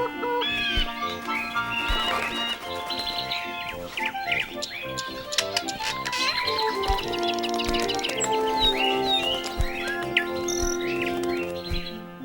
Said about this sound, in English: and more birds.